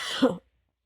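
A single short, throaty cough, close and abrupt, cutting off into silence.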